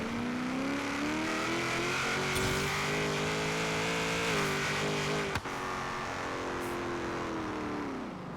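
A 1991 GMC Syclone pulls away and shifts from first to second gear, a steady engine drone that rises then holds, with a brief click at the shift and a fading hum afterward.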